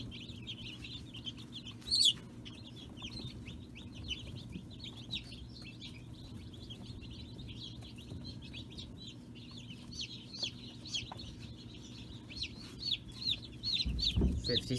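A brooder full of newly hatched chicks, dozens of high peeping chirps overlapping continuously at moderate distance, with low background hum and a brief knock near the end.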